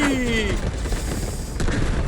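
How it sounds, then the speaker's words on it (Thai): An explosion goes off in the shooter game Delta Force. A descending whine at the start is followed by a dull, rumbling boom with a crackling tail, heard at moderate loudness. "ชิบหายระเบิดผ่านหน้า"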